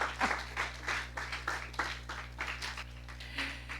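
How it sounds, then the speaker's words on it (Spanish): Church congregation applauding for God, a continuous soft wash of many hands clapping at a moderate distance, fairly faint over a steady low hum. "Vamos a darle un aplauso al Señor."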